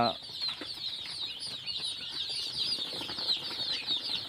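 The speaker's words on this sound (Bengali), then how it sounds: "এখানে আমার মুরগির বাচ্চা বোর্ডিং করা হচ্ছে। এই হচ্ছে মুরগি বাচ্চাগুলো।" A crowd of two-day-old chicks on a poultry farm peeps continuously in high, overlapping chirps, with faint rustling and scratching nearby.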